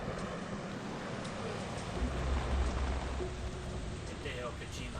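Steady rain falling in the video game Metal Gear Solid 2: Sons of Liberty, heard near the George Washington Bridge: a dense, even hiss of raindrops with a low rumble swelling midway, continuous throughout.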